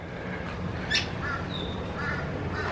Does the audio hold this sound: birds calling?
yes